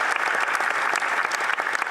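Steady, dense applause from a crowd in the House of Commons during parliamentary Question Period, filling the whole moment with continuous clapping and no pauses.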